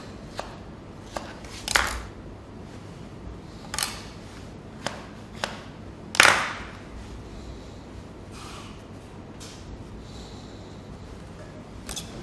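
A knife slices strawberries into thin pieces for a sabayon dessert, producing sparse, separate sharp cuts on a board, a few louder than the rest, over a quiet kitchen background.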